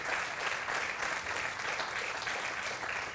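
An audience at a MotoGP event in Misano applauds the pole-position rider with a short, steady burst of dense clapping throughout.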